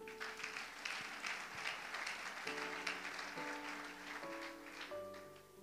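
A church congregation at a Sunday service applauds together, a dense wash of clapping lasting several seconds while sustained organ or keyboard chords play beneath it.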